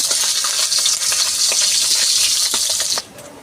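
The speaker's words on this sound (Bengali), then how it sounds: "এই তেলের মধ্যে আমি আলুটা বেজে তুলে নিচ্ছি" Potatoes sizzling as they fry in hot oil in a pan during fish-head and cabbage cooking, a steady loud hiss broken by small pops, cutting off abruptly near the end to a faint quiet.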